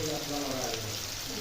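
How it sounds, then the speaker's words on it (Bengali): Green chillies, garlic, onion and curry leaves fry in hot oil with a soft, continuous sizzle, brief and fairly quiet, with a voice faintly beneath. "লঙ্কাগুলোকে ভেজে নেব।"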